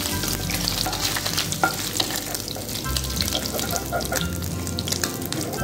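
Mourola fish frying for chorchori sizzles loudly and continuously, a dense close crackle of hot oil with faint stirring noises underneath.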